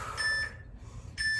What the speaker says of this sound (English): another thing I have to get used to is those little warning beeps